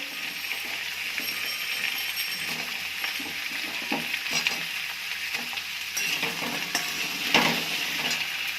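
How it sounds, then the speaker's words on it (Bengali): Pointed gourd and pumpkin pieces sizzle in a pan for an Indian curry, a steady frying hiss broken by repeated scraping stirs and occasional clinks of a utensil. "সবজিগুলো একটু ভাজা ভাজা হয়ে গেছে, হাফ সিদ্ধ হয়ে গেছে।"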